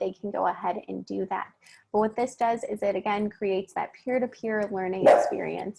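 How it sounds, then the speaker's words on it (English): A dog barks in the background, a few short barks under a person talking steadily, with one louder burst near the end. "Sorry about my dog, 1 second."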